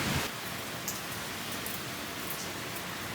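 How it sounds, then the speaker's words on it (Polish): Heavy rain pours steadily in Nairobi, a dense, even hiss of water falling on surfaces close by, continuous and unbroken. "Mam też nadzieję, że będzie mnie słychać przez ten deszcz."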